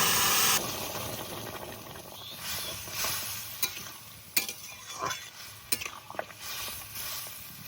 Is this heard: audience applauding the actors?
no